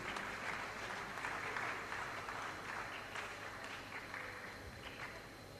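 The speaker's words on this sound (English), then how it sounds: "Can we clap for them, please?" Sustained applause from an audience greeting the Igbobi College Choir at a live event, a dense, steady wash of many hands clapping at a moderate distance throughout, with no voices standing out.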